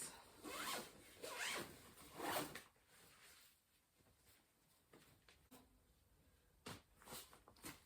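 Suitcase zip pulled open in several quick rasping strokes over the first few seconds, close and fairly quiet, followed by softer rustles and handling noises while packing clothes.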